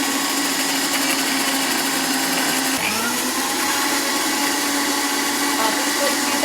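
A kitchen mixer machine whirs at high speed blending a mixture with added milk, a loud steady motor drone that shifts pitch briefly partway through as the load changes, then carries on evenly.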